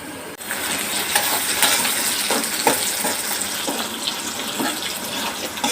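Onions frying for a long time in a deep pan, giving a steady broadband sizzle throughout with scattered small pops and crackles, moderately loud and close, with no talking.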